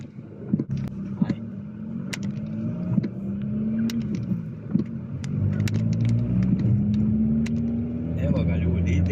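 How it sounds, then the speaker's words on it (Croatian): A car, presumably a BMW, drives along a snowy winter road on tires without grip, with a steady low engine drone and scattered crunching clicks, heard under ongoing talk. "Eno ozgor ide auto"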